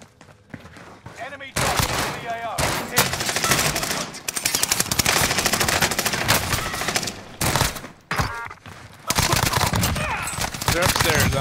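Rapid bursts of automatic gunfire from a Call of Duty match on Rebirth Island crackle loudly in repeated volleys with brief gaps, mixed with game audio and a player talking over it.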